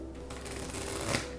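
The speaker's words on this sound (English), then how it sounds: "Let me try my luck with the riffle shuffle here." A deck of playing cards is riffle shuffled, giving a quick, faint flurry of fluttering card clicks that lasts about a second during a close-up card trick.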